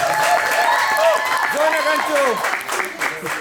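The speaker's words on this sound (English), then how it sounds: "let's give him a round of applause, please" An open mic night audience gives a round of applause, a steady wash of clapping running the whole time beneath a voice speaking over it.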